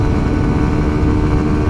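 A 2020 Kawasaki Ninja 125 motorcycle engine, 11 kW, held at high revs around 9000 rpm, gives a steady, buzzing, loud drone close up with no break, on its own and without talk.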